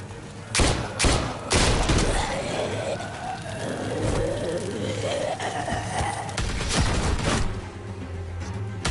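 Gunfire in The Walking Dead: A New Frontier, several loud sharp shots in the first two seconds followed by a steady din with more scattered blasts later, voices and ambient noise underneath.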